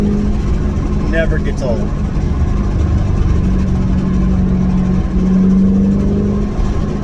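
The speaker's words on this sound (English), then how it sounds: "you can bring that engine up and hear it whine" A Shelby's engine drones steadily under constant wind noise, rising slightly toward the end as it revs and whines, with a brief spoken remark near the start.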